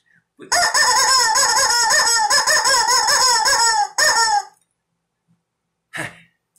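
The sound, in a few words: screaming rubber chicken toy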